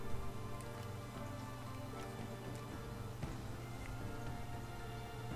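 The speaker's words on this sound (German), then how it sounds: "Wenn ihr die ganzen Aufnahmen immer so ein Plätscher im Hintergrund hört, das hört, ist mein Aquarium." Home aquarium water splashes and trickles softly in the background, a faint continuous patter with scattered light drips and no talking.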